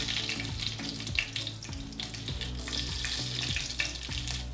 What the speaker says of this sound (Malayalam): കടുക് പൊട്ടി തുടങ്ങിയിട്ടുണ്ട്. നമുക്ക് അതിലേക്ക് ഉലുവയും കൂടി ചേർത്ത് കൊടുക്കാം.